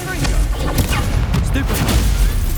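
The Incendio fire spell from a Harry Potter-style video game is cast amid loud, dense game combat, with crackling bursts and impacts layered over a continuous noisy background and a voice talking.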